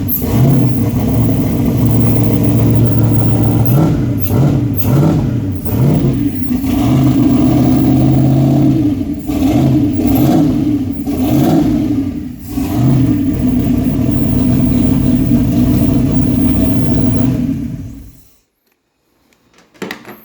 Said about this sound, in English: I don't have the idle set or anything, but voila, it runs